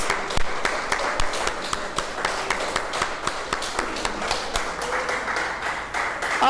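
A church congregation applauds, a steady patter of many scattered claps at moderate volume filling the room without pause.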